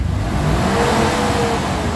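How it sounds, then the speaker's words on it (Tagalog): A Mitsubishi Adventure gasoline engine revved hard, held at a loud, steady high-rpm roar close by for the whole stretch. "Ganun lang guys gagawin, i-revolution nyo lang ng malakas."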